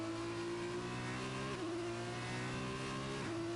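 F2 race car engine in the F1 2021 racing game, a loud steady high-revving drone with two brief dips as the gears shift, continuous and close with no talk.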